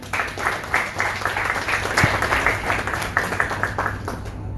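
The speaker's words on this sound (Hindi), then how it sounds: "जोरदार तालियों से हम इनका स्वागत करते हैं।" An audience applauds to welcome a female singer at a raga concert, dense steady clapping from many hands filling the room for several seconds.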